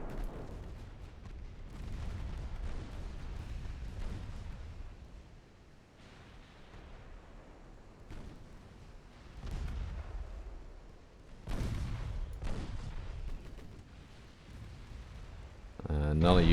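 Battleship main guns firing in the naval strategy game Ultimate Admiral: Dreadnoughts, a 1913 French campaign, heavy distant booms rolling out in several separate salvos with low rumbling tails.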